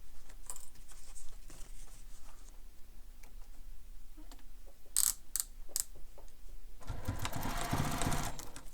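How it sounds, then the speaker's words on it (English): A sewing machine stitches a bag pocket closed through several fabric layers in short, quiet bursts of ticking, separated by pauses and small handling sounds, and grows louder and steadier near the end. "So now I'm going to stitch my pocket closed using the seam allowance given in the pattern."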